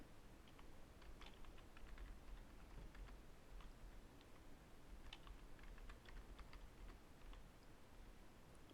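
Quiet, steady typing on a computer keyboard while a username, password and email are filled in during a WordPress install on Windows Server 2008 R2, with soft irregular key clicks in bursts over faint background hiss.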